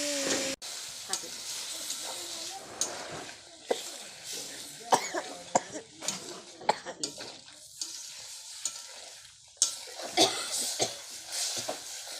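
Several people cough and clear their throats from pungent curry fumes in a home kitchen while food fries and is stirred in a pan, with sharp, irregular coughs over a steady sizzle.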